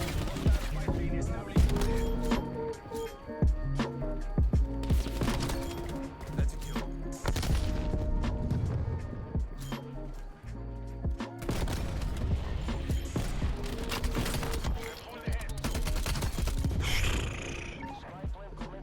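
Gunfire in the video game Black Ops Cold War, with sniper shots and bursts of firing cracking repeatedly amid game effects, while someone talks over the action throughout.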